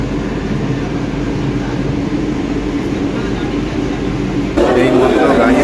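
Inside a moving Kolkata metro train, a steady low rumble and whoosh runs throughout and grows noticeably louder near the end, with a voice talking over it.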